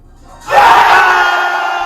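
A stadium crowd of football fans erupts into loud cheering and roaring, the sudden swell holding steady and fading slightly after a quiet start.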